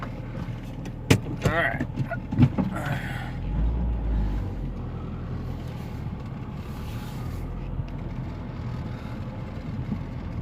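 A 2002 Saturn SL1 car running and driving, with a steady low engine and road rumble throughout, a few knocks and clunks early on, and a brief spoken word near the start.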